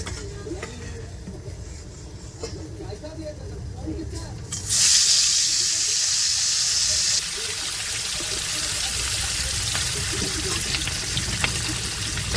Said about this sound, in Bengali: দেখো এখানে তেলটা গরম হয়ে গেছে মাছটা ভেজে নেব